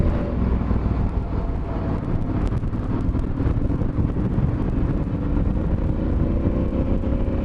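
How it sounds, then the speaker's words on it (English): Strong wind roars and buffets against the microphone while riding a Suzuki V-Strom motorbike on an outback road, a loud continuous rushing noise with engine drone underneath throughout. "At least the wind's coming straight at me now."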